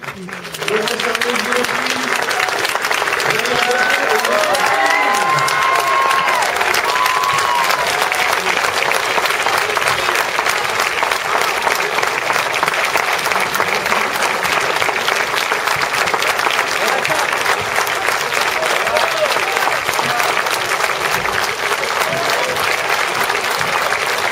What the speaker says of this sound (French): Je vous demande un tonnerre d'applaudissements, s'il vous plaît, pour l'équipe du film La Petite Famille.